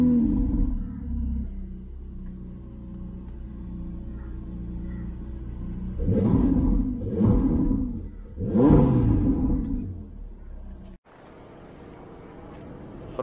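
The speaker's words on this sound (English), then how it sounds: "So we want to upgrade the FIE exhaust." A Ferrari 488 GTB with a 3.9-litre twin-turbo V8 and FI exhaust idles with a low rumble, then revs loudly in three rising bursts before cutting off abruptly.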